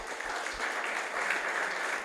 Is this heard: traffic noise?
no